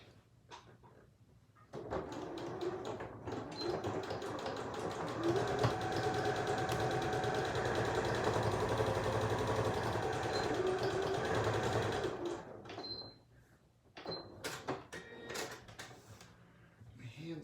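A sewing machine runs steadily for about ten seconds, stitching the side seam of fabric pieces for a bag, with quiet handling noises before and after the stitching.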